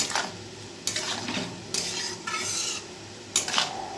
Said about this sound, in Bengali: ভালো করে মিশিয়ে দেবো এবার নেড়ে চেড়ে